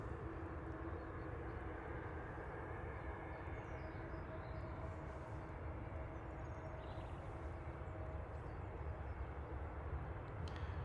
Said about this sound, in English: The AIB A320neo is going to be the next one to touch down.